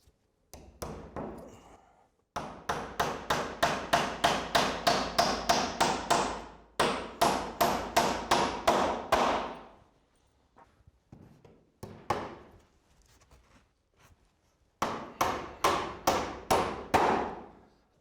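Timber roofing battens being hammered onto a roof, heard as loud, close bursts of rapid, evenly spaced hammer blows, each run speeding up and tightening as a nail is driven home, separated by short pauses and quieter knocks.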